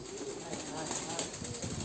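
Pigeons coo steadily at a farm keeping around two hundred birds, a dense, continuous murmur of many birds close by with no pauses.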